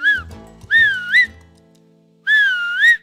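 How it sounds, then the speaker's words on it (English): Three loud, high-pitched finger whistles, each a piercing tone that rises and swoops, separated by short gaps of near silence. "Until you get that high-pitched, commanding, loud whistle."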